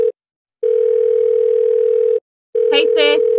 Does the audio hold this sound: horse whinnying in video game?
no